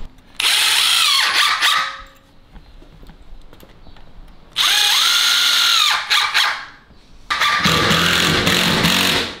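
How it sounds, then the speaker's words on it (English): Power drill driving screws into a ceiling to hold up a homemade pull-up bar, three loud sustained whirring bursts, each winding down, with short pauses between them and no talking. "I'm gonna screw it first to kind of hold it up there, and then I'm gonna add those bolts"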